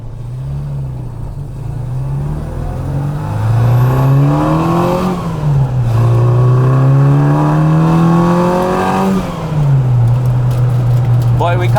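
A Lotus-inspired classic Mini Cooper runs loud and close, its exhaust rising and falling through several revs in a smooth, throaty sweep.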